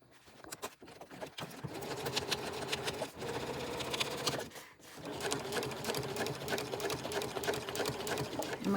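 A sewing machine top-stitches straight lines across a quilted fabric pouch, running in a fast, close, rattling hum with brief pauses and restarts.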